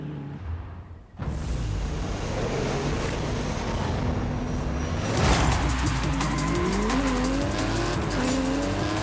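A 7.7-litre V12 car engine in Forza Horizon 5 roars loudly and continuously, climbing and shifting in pitch as the car accelerates, with squealing tires from wheelspin and traction loss mixed in.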